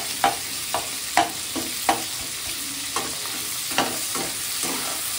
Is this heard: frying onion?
yes